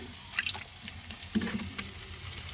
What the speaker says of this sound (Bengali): তো আমি একটা বাটি নিয়েছি, এর মধ্যে দেব অল্প জল।